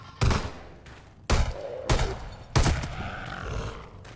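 Gunfire in Garry's Mod at an arctic research base: four heavy, booming shots spaced about a second apart, each followed by a reverberant tail.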